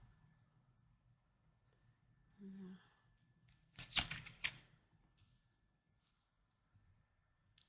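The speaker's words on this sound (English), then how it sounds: "Let me pull one more card." Tarot cards shuffled and a card drawn during a reading, heard as a brief quiet riffle followed by a louder burst of crisp flicking and slapping, then near silence.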